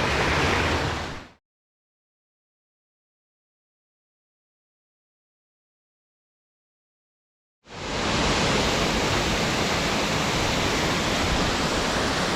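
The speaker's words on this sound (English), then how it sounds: "This is the first massive fall that we found so far." Waterfall on a tributary of the Red River on Cape Breton Island, a broad, steady roar of rushing water that cuts out completely for several seconds and then returns just as loud and constant.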